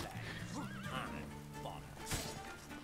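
Horse neighing in The Witcher 3, a shrill, wavering whinny near the start followed by clip-clop hooves and combat noises, a sharp impact near the end, with someone talking over the game sounds.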